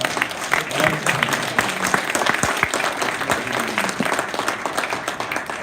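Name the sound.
audience applause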